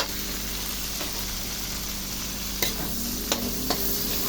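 Onions and sliced tomato fry in a pan for pakbet, a steady close sizzle broken by a few sharp clinks as they are stirred.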